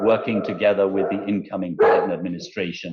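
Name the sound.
two golden retrievers barking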